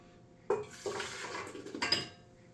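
A yeast mixture for bread dough is poured into a metal stand-mixer bowl, starting with a sharp clink of the container against the bowl, then a short wet pour and a few more light knocks, quiet and close.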